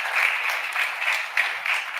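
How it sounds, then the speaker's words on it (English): Steady round of applause for Kid Governor program participants at an inauguration ceremony, a continuous even patter of clapping with small swells throughout. "Let's also give them a round of applause"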